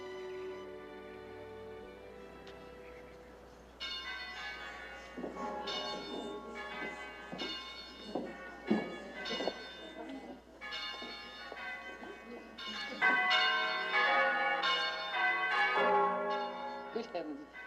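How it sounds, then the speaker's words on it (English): All the church bells of Brede rung at once, starting with a low hum and a few tones before a loud, dense clangour of overlapping pealing bells swells up and carries on with rising intensity. "Dame Teresa said, Mother, all the bells at once."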